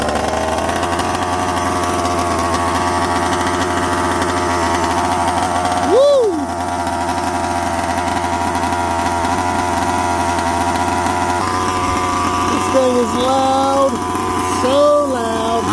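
A 45cc chainsaw engine runs steadily at a continuous drone throughout, close and loud, with a brief revving surge in the middle; a person whoops over it.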